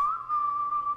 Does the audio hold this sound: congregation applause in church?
no